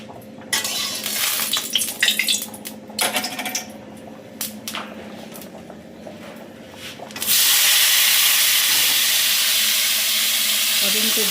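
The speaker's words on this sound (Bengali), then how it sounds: "আলু পরোটাটা ভাজবো।" Aloo paratha frying in hot oil in a home kitchen: metallic clinks and scrapes of utensils against the pan come first, then a loud, steady sizzling hiss takes over and continues to the end.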